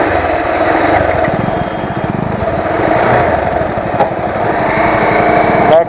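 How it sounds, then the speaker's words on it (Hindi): A Bajaj Pulsar 220F motorcycle engine runs steadily while being ridden, a close, continuous buzzing drone with a brief rise near the end. "तो लेट्स एंजॉय पल्सर 220F, क्या लेजेंडरी बाइक है"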